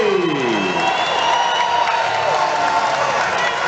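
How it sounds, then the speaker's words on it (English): Arena crowd at a mixed martial arts fight night roaring, cheering and applauding steadily and loudly, a dense continuous wall of voices with whistles and whoops, an announcer's voice faintly mixed in. "This crowd is electric."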